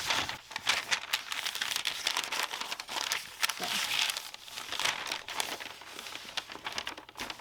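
A cut-out paper sewing pattern being unfolded, with steady crinkling and rustling of the paper throughout, close and fairly loud, rising and falling as the sheet is opened out.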